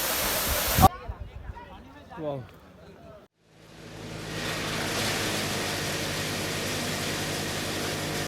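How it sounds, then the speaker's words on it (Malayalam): A waterfall roaring steadily at close range, a broad continuous rush that rises and holds after a few seconds of brief talk and shuffling at the start. "വെള്ളച്ചാട്ടം"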